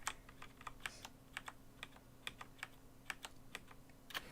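Computer keyboard arrow keys are tapped to steer a game, with quick irregular clicks in short bursts over a faint steady hum, close and fairly quiet.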